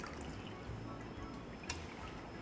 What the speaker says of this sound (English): And lemon juice. And again. Pour a good bit in.